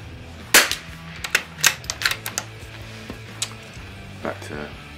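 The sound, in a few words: Christensen Arms Ranger carbon fibre rifle gunshot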